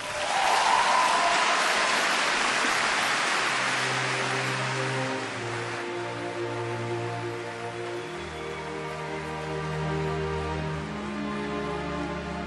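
A concert audience applauds loudly for a singer at a game-music concert, the clapping peaking early and fading as sustained instrumental notes rise and carry on alone.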